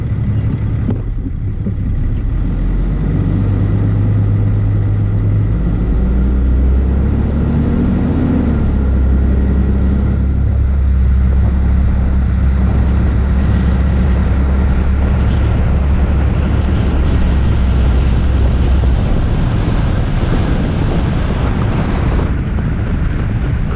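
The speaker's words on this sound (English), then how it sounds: "I'm gonna drive down the road." A car drives steadily along a rural road in Wisconsin in autumn, a continuous low engine and tire rumble mixed with wind buffeting on the microphone, loud and unbroken throughout with no talking.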